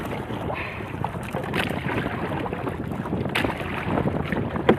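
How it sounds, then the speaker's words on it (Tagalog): Strong wind buffets the microphone on a small fishing boat out on the sea late in the afternoon, a steady loud rushing with gusts throughout and no talking. "Kaya medyo malakas na yung hangin."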